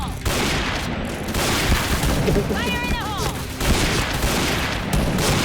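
Rapid automatic rifle fire in the shooter game Point Blank, a dense loud continuous fusillade of shots with a voice talking over it.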